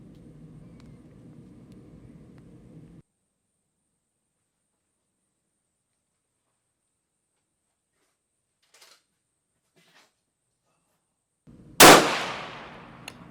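A single loud, sharp crack from a 6.5 rifle fired at a range, ringing out with a fading tail near the end after a low engine-like hum and long near-silence with a couple of faint clicks.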